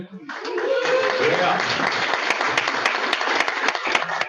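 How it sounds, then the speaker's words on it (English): Applause from a Rotary Club meeting audience welcoming back a fellow member, broadband clapping rising quickly and sustained steadily for several seconds, with a brief voice heard early on. "we need to give a big round of applause for one of our fellow Rotarians"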